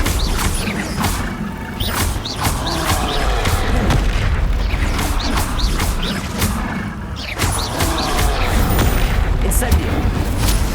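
Incendio fire spell cast again and again in the Hogwarts Legacy video game, loud bursts and crackling blasts arriving in a steady rhythm over dense game combat noise, with voiced spell shouts mixed in.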